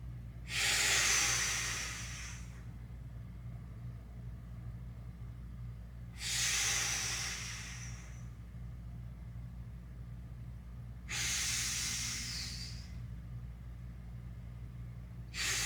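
Heavy exhalations during a breathing exercise for pectus rib flare, three long loud hissing breaths spaced several seconds apart, close to the microphone, over a steady low hum.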